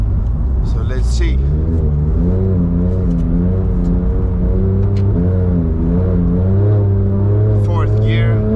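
A Porsche GT3 accelerates hard on an ice-driving track, its engine note climbing in loud, rising sweeps through the gears while someone talks over it.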